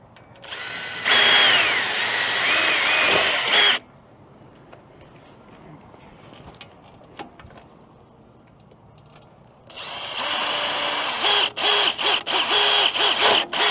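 A power drill boring pilot holes into a mower bracket, in two loud sustained bursts with a quiet stretch of faint handling noises between them; the second burst breaks into short stuttering pulses.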